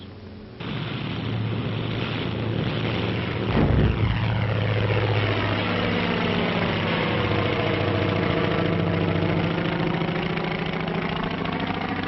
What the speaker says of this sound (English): Aircraft leave the flight decks during extensive attacks